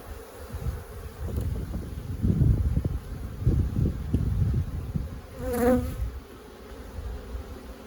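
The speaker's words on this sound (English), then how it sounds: "Have you noticed more bees flying around you?" Honey bees buzz steadily around a beehive outdoors, a continuous droning swarm close to the microphone with louder passes as individual bees fly near.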